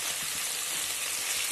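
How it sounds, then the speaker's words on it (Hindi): Fried onions with ginger and garlic sizzling in a pan, a steady close hiss of frying that runs unbroken from start to end with no voices. "इसे भी हम भून लेते हैं अदरक लहसुन के साथ ही"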